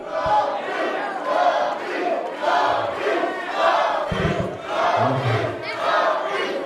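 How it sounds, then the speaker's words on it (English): Wrestling crowd in a hot, packed building at an I Quit match roars and cheers steadily, a dense, continuous swell of many voices rising and falling in waves throughout. "This crowd's starting to come up for Caprice Coleman"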